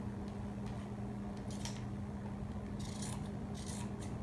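Scissors cut through fabric for embroidery, a few faint, short snipping bursts spaced apart over a low steady room hum.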